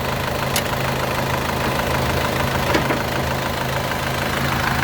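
A 2006 Isuzu Panther LS engine idles with a steady, even rumble, running continuously with a couple of faint clicks and no talking.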